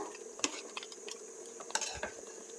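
A spoon stirs country chicken curry in a metal pot, with close, sharp clinks against the pot and light scraping at an uneven pace, and no voices.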